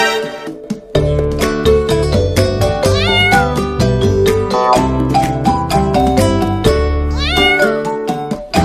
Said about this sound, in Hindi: चलो बिल्ली के बच्चे को घुमाने ले चलते हैं।